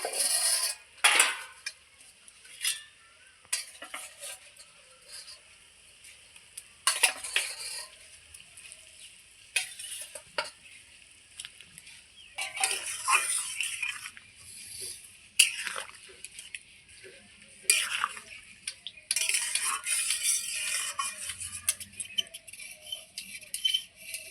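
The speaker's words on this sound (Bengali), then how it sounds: "এইবার আমি বেগুনগুলো ছেড়ে দেবো, ভেজে রেখেছি যে বেগুনগুলো" Fried eggplant pieces are added to a simmering fish curry and stirred in a metal pot, with intermittent clatter, scraping and clinks of a spoon over a faint bubbling simmer.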